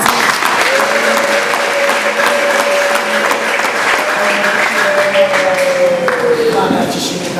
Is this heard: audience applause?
yes